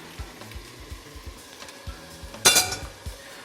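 Metal spoon clinking and scraping in a pot as beef broth is stirred for French onion soup, with a steady run of light knocks and one brighter clang near the end, close and alone.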